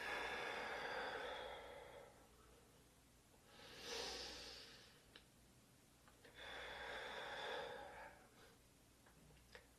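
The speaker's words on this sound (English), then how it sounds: "Deep breath in. Deep breath out." Slow, deep breaths during a hands-on soft tissue massage, each long inhale and exhale rising and fading in a steady rhythm, close and quiet against a hushed room with faint ticks.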